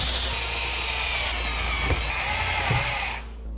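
Power drill driving screws to fasten wooden frame parts, a close, loud, steady whir that stops abruptly at the end.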